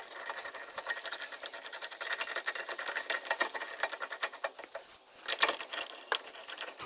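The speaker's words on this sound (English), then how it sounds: "So as I'm tightening this, it should be pulling the bearing into this cup." A bearing puller being tightened on a BMW E46 rear brake assembly, a steady run of close metallic ratcheting clicks and scraping, with a brief pause near the end and no talking.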